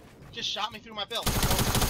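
Gunshots in Fortnite breaking out abruptly after a short stretch of talk, a loud rapid stream of shots hammering on without pause to the end.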